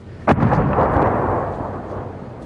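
Coalition airstrikes pound a town in eastern Syria: one sharp, heavy blast opens, then a deep rumbling roll that slowly fades, heard from a distance.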